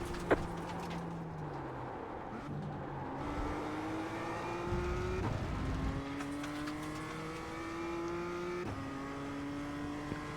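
BMW M2 race car in the iRacing simulator, its engine droning steadily and climbing in pitch through repeated upshifts, with brief tire and mechanical noises, loud and continuous with no talk.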